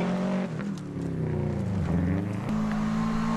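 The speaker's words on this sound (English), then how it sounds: "a little Hyundai being thrown very vigorously around the course by Richard, using all the revs and and throwing the car into the corners" A small Hyundai rally car driven hard around a rally sprint course, its engine roaring steadily near and loud, pitch swooping down and climbing again as it revs through corners.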